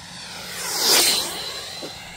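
Freewing F16 90mm EDF radio-controlled scale jet on an 8S setup at three-quarter throttle makes a loud ducted-fan whoosh as it passes close overhead, swelling and fading away, then a steady fainter whine as it flies off.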